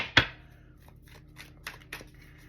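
A deck of tarot cards is shuffled: one sharp snap at the start, then a few soft, scattered riffles and taps close by in a quiet room.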